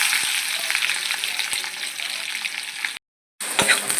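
Onion and chilli frying in hot oil with cumin and mustard seeds, a steady close bright sizzle with faint stirring clicks, cut by a brief silent gap near the end before the sizzle resumes.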